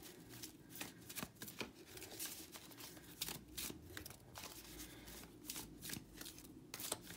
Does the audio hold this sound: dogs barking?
no